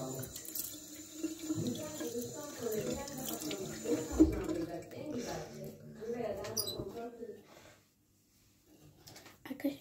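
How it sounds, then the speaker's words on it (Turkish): Tap water runs into a sink while someone washes their face, a steady splashing flow under ongoing talk that drops to near silence toward the end. "şimdi ilk önce ben yüzümü yıkayacağım"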